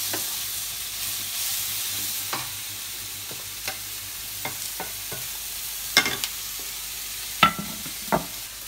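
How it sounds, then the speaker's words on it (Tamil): Green chilli and tomato sizzle softly in a pan on the stove, a steady low fry broken by occasional clacks and scrapes of a stirring spoon, with no talk. "போட்டு நல்லா வதக்கலாம் கொஞ்சம்."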